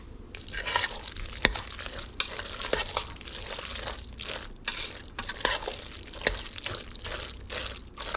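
Lobster being stirred into hot, creamy Instant Pot mac and cheese, with soft wet squelches and scraping strokes repeating steadily up close, a faint sizzle underneath and no voices.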